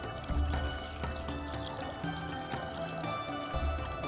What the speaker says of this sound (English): So what I'll do is I'll pick some water. I'll add around 2 cups.